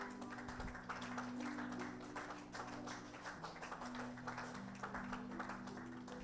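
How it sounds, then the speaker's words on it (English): Applause from an audience at an honorary doctorate conferment ceremony at Myles Leadership University in Lagos, Nigeria: steady, dense clapping from a crowd, sustained throughout at moderate distance with a faint hum beneath. "Let's keep clapping until they have their seats"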